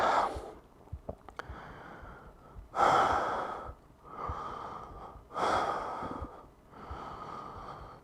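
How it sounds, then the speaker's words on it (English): Deep yoga breaths fill the belly and chest: slow, close, airy inhales and exhales alternate in a steady rhythm, with a few soft clicks near the start and no talking. "Breathing in deeply into your belly, into your chest."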